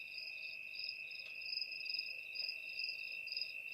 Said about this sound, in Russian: Слышно, как сверчки.